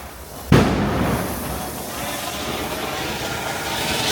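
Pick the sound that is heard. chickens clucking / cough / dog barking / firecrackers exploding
firecrackers exploding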